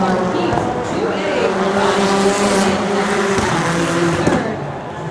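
Rallycross supercars roar through a Supercar heat at Red Bull Global RallyCross in Seattle, engines droning loud and steady with revving and tire noise, and a commentator's voice talks over the racing throughout.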